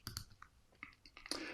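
Several sharp computer mouse clicks while picking a piano and keyboard instrument in music-making software, spaced irregularly, with a brighter, louder click cluster near the end; no talking.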